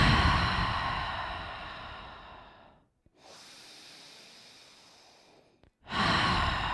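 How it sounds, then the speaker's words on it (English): Slow, deep breaths during a short yoga practice: a long audible exhale, a pause, a softer inhale, another short pause, then a new breath beginning, close and quiet. "just hold it 2 more deep breaths with me"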